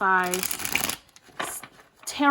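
Reigning Rouge tarot cards, standard tarot size with gilded edges, are shuffled in close, crisp riffling bursts, one long and one short, with a voice talking briefly at the start and end.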